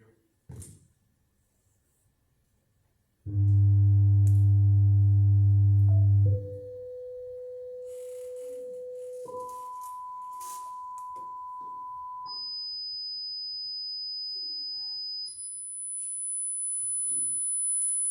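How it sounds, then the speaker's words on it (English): A pure test tone steps upward from a low hum to a high whistle in several sustained stages, with faint talking in the background. "going from low frequency to high frequency"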